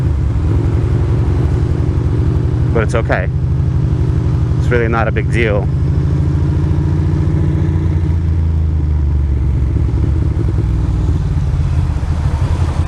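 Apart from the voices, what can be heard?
road traffic while riding a Ducati Monster motorcycle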